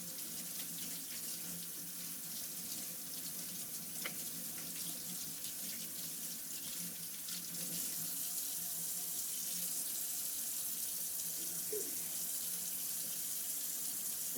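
Water runs steadily from a kitchen tap during home bacon curing, a continuous close hiss that grows slightly louder partway through, with no talking over it.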